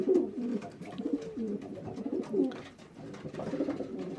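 Several pigeon cock birds coo inside a loft, producing overlapping low, throaty rolling coos that repeat steadily throughout, close and fairly soft.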